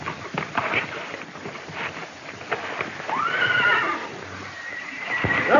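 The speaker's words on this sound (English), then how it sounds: "Another young stallion trying to beat that black devil out of his herd." A young stallion neighs in a long, rising-and-falling whinny amid a herd, loud and close, with thudding hoof-like knocks before it and no speech.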